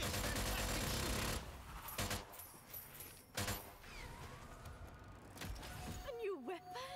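Gunfire in the video game Strange Brigade: a dense burst of rapid shots at the start, then scattered single loud reports through the middle, with game effects and a voice underneath.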